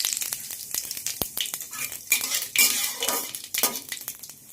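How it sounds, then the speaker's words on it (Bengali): Cumin seeds crackle and sizzle as a tempering in hot oil in a kadai, with sharp clinks of a metal utensil against the pan and bursts of spattering, close and without speech. "জিরে ফোড়ন দেবো"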